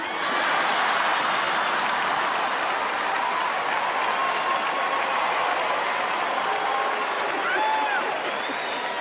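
A stand-up comedy crowd claps steadily and loudly for about nine seconds, a continuous dense roar of applause with scattered laughter and cheering mixed in.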